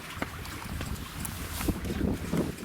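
Steady breezy wind buffeting the microphone at a boat slip in a marina, a loud continuous rumble with faint water and boat creaks underneath.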